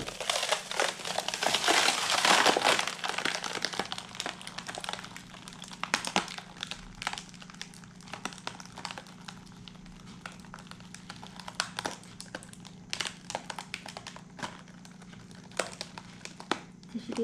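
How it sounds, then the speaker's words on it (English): Tissue paper wrapped around a balloon for a leaf lantern crinkles as the balloon is popped and deflates, with a loud rustling burst at first, then sparse quiet crackles and taps. "when we pop our balloon, the tissue paper might scrunch up at first"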